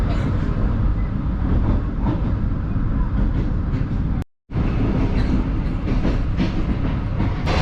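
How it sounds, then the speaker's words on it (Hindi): Shalimar Express passenger train picking up speed out of a departure yard, with steady loud rumble and rail noise throughout, broken by one brief gap of silence near the middle. "ट्रेन ने थोड़ा सा स्पीड अप होना शुरू किया है"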